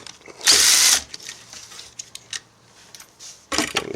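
A power tool whirs and ratchets in two short loud bursts while loosening bolts on a Vectrix NiMH battery pack during disassembly, with quiet gaps of clinking in between.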